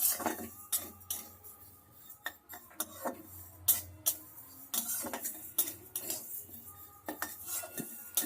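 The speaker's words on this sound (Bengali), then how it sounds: "সমানে নেড়ে ভেজে নিতে হবে যেন পোড়া না লেগে যায়" A metal spoon clinks and scrapes against a pan while jackfruit seed lentils are dry-fried and stirred constantly, giving quick irregular taps and rattles over a quiet background.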